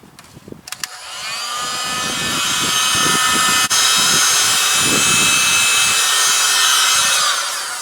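A heat gun blows a steady loud hiss while warming a trim piece and mud flap on a 2018 Ford F-150 outdoors in the cold, running continuously after a short start.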